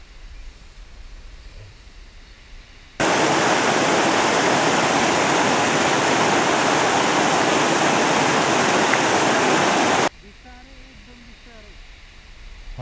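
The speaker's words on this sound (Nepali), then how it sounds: "खोला त निकै बढेछ नि भ्यू" A swollen river flows in a sudden loud, broad rushing roar that holds for about seven seconds, with quieter outdoor ambience and brief voices before and after.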